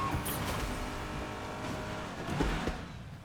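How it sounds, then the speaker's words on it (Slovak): A car driving in Fortnite, with a steady engine drone running through the whole stretch and a brief louder swell near the end, continuous and fairly close. "Počujem auto."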